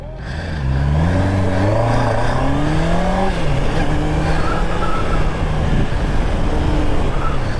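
A Honda CBR650R E-Clutch motorcycle revs hard and close, its engine note climbing, dropping briefly at a gear change, then pulling on steadily. The shifts are made without touching the clutch lever.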